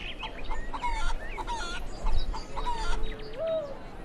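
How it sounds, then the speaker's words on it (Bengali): Chickens at a meat shop in a cartoon cluck and squawk in a lively, overlapping chorus, with repeated sharp calls and a brief crow-like cry, fairly close and without speech. "আরে বাহ, কি সুন্দর নাদুস নুদুস মুরগি!"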